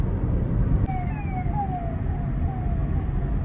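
A siren from a passing minister's convoy on a road near Kamakhya wails in gliding, repeated tones at moderate distance, steady over a constant traffic rumble.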